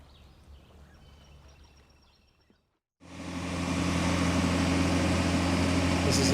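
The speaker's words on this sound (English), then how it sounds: "This is an irrigation pump." Irrigation pump engine running beside the Scioto River, a loud steady drone that starts abruptly after a short quiet gap and holds at an even level to the end.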